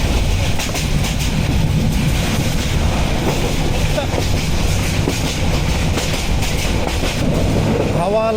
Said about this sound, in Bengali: এই ভাওয়াল বনাঞ্চলের মধ্যে দিয়ে এরকম 50 কিলোমিটারের আশেপাশে গতিসীমা নিয়ে আমাদের ট্রেন চলছে